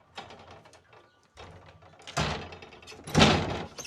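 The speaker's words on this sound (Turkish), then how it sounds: "Kapıyı kapattım." A door is pulled shut indoors: a few scraping, rattling movements, then two heavier thuds as it closes, fairly close and loud with no talk over it.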